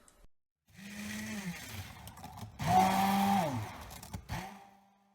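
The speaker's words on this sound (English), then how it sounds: "I'll mix in the sugar with this hand blender." A hand blender whirring as it mixes sugar into milk pudding, running in two bursts with a brief pause, the motor pitch rising in the louder second burst before cutting off.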